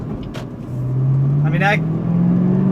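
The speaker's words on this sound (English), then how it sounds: "this car runs so much smoother and so much more efficient now" A Ford Mustang fitted with a K&N air filter hums along in traffic, its engine note rising smoothly as it accelerates, heard from inside the car under a man's brief speech.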